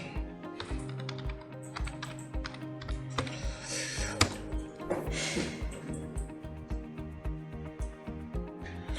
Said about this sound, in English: Over to your left, click on plugins, add new. Over to the search bar, type in duplicator.